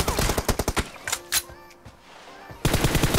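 Rapid bursts of video game gunfire in a 1v1 match, a fast automatic volley, a pause with a couple of single shots and faint tones, then another loud burst at the end.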